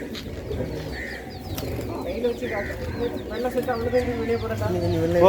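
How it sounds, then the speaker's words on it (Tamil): Pigeons in a loft coo and flutter close by, their soft repeated calls mixed with other bird sounds and a low background, while someone talks over them. "இது வெள்ளை செட்டில் உள்ள புறாவே."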